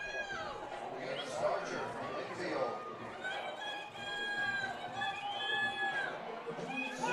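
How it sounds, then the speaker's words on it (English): Cheering fans at a Class AA West Virginia state cross country championship finish, with a continuous crowd roar and shouts as girls run down the final stretch, mixed with nearby chatter and voices. "You can hear the fans in the background just cheering all the girls on as they come down the stretch here"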